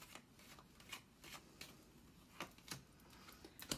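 Tarot cards being shuffled and drawn, soft repeated riffling flicks and light slaps close by, fairly quiet, with no voices.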